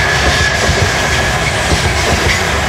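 A train passes along a track beside Rotterdam's Blijdorp zoo, a loud, steady, close rumble of wheels and carriages filling the whole stretch without pause, with no voices.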